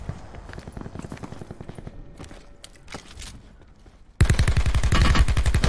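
A gun fires rapidly in a battle royale video game, with rhythmic bursts of shots and scattered cracks before a sudden loud, dense stretch of sustained automatic fire close up.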